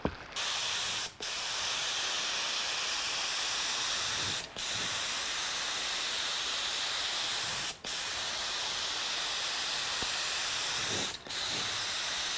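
Spray gun laying a coat of clear coat paint on a damaged, stripped car body: a steady, loud hiss of atomised spray in long bursts, broken by four brief pauses where the trigger is released.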